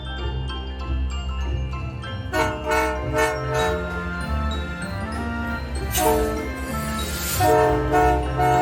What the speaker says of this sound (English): here's a train that looks like Santa Claus has just vomited all over it